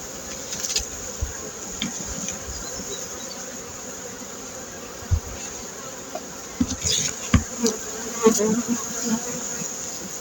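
A honeybee colony in an open hive, being readied for winter, gives a continuous close, steady buzzing drone. Occasional knocks and clicks from handling the hive and frames rise above it.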